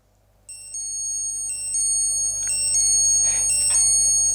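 A Seiko digital watch chimes after both buttons are pressed together, giving a close, bright electronic melody of quick high beeps that rises in loudness and repeats in short phrases over several seconds, alone without talk.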